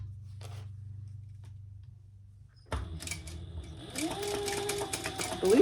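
A sewing machine guided by a seam guide starts up after a quiet stretch, its motor whirring steadily and rising in pitch as it runs faster, the needle chatter dense and close for the last few seconds.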